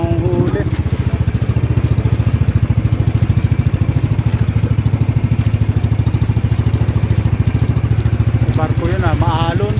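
A fishing boat's engine drones steadily and loudly throughout while the boat runs over rough sea, a continuous low throbbing with brief voices near the end.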